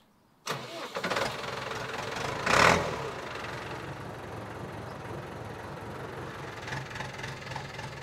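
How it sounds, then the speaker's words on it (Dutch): A 1994 Ford 5640 tractor with a 78 hp engine starts up and settles into a steady diesel idle, close and continuous, with a brief louder rev just after starting. "Maar nu gaat de Ford uit 1994 met 78 pk zijn 8000 draaiuren flink opschroeven."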